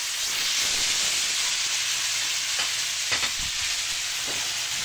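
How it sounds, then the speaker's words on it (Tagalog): Mussels fry in garlic butter in a hot pan, a loud, steady broadband sizzle and hiss that fills the whole stretch, with a few faint clinks of stirring. "Tapos, lagay na natin ating tahong."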